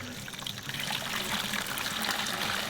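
Hot water from a Smeg electric kettle pours in a steady, close trickling stream, a continuous liquid splash with no talking over it.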